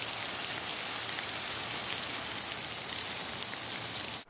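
Steady broadband hiss of a garden hose spraying water over an organic vegetable garden, continuous and fairly close, running evenly throughout with no talk.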